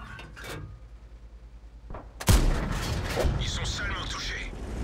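Tank cannon fire aimed at an E75 heavy tank in a video game: a loud, sharp blast followed by a rumbling, crackling aftermath, with a fainter thump shortly before it and a voice talking under parts of it.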